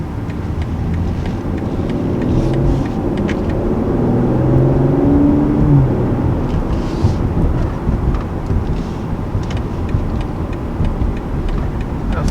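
A 2020 BMW M340i pulls away and accelerates on the road, a steady engine and road rumble swelling midway and then settling, heard from inside the car with no voices.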